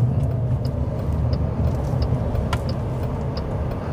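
Dense road traffic in a jammed stretch of a Vietnamese neighborhood in the United States, a steady loud rumble of car and bus engines with faint brake hisses and ticks, no talking.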